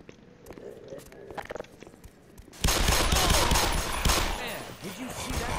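Rapid sustained gunfire from the shooter game Black Mesa bursts in loudly after a quieter stretch of scattered clicks and footsteps, continuing as a dense, rattling fusillade to the end.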